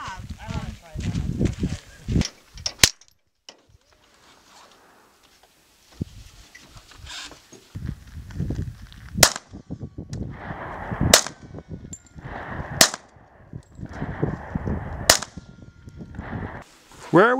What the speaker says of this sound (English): Time for some target shooting.